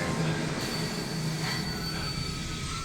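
A moving train rolls along the rails in a Doctor Who scene, its wheels squealing in a loud, steady screech over continuous rumbling, with no voices.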